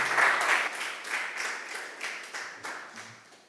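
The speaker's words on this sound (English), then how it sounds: "Big round of applause." An audience at a Viking and wine tasting presentation in Galicia claps in a short burst of applause, loud at first and then fading into scattered claps over a few seconds.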